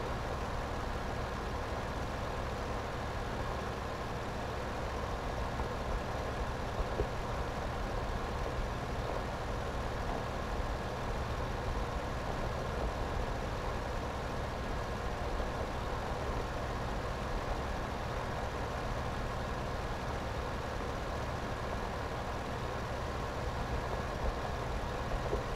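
Tractor pulling a plough in Farming Simulator 2015, heard as a steady, continuous engine drone with rumbling low end, holding even and unbroken throughout with no talk over it.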